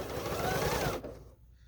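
Sewing machine stitching quilt binding, a dense close mechanical whir for about a second that stops abruptly, leaving quiet.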